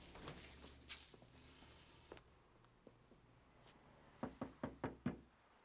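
A series of five sharp knocks on a door sounds in quick succession near the end, after a few scattered thumps in a quiet room.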